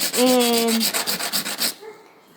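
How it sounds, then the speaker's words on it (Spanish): A curved-cut mosaic piece is sanded with quick back-and-forth rubbing strokes, a rhythmic rasp of about a dozen passes, close and fairly loud, that stops near the end. "cuando son cortes curvos, yo voy lijando y me voy"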